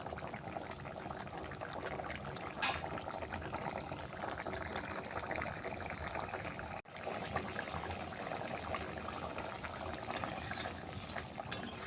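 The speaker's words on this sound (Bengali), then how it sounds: "মাছটা দিয়ে আরও 5 মিনিট ফুটিয়ে নিচ্ছি।" Fish curry with elephant foot yam and fried fish bubbling steadily in a pan, a continuous close simmering hiss and pop with no talk.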